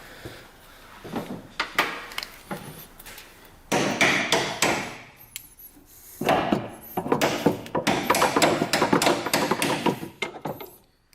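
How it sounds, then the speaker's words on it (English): Repeated sharp knocks from a Snap-on ratchet hammer striking metal while a Gen 4 3SGTE engine is set into an AW11 MR2, the blows coming in clustered bursts with workshop clatter between them. "Snap-on ratchet hammer"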